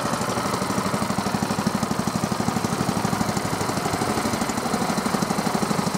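Warmed-up twin-engine tiller airboat propulsion unit running steadily at close range, a loud rhythmic engine drone with even pulsing throughout and no talk.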